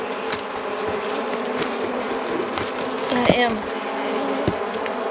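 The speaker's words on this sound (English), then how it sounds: "brushing the bees off" Honey bees buzzing steadily around hive frames pulled from honey supers outdoors, a dense close swarm drone with a brief voice and small handling knocks over it.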